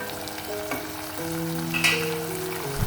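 Fried chicken pieces and egg stirred into a bubbling sambal sauce, a soft steady simmer and sizzle with a few light stirring clinks, under a continuous tonal background.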